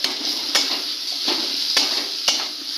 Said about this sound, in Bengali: সমস্ত কিছু এক এক করে দিয়ে দেবো লঙ্কা রসুন বেগুন ধনে পাতা সব একসাথেই আমি এবার এইভাবে একটু নেড়ে চেড়ে